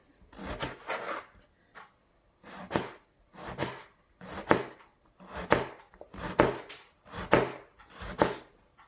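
A large knife cuts vegetables into strips for moussaka, making eight or so rhythmic bursts of close chopping and slicing against a board, each short series separated by brief pauses, with no talking.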